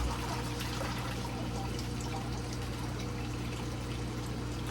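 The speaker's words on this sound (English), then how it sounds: "let the water run through the net" Water from a bucket of live plecos runs steadily through a fish net, a continuous close pouring and trickling wash with no voices.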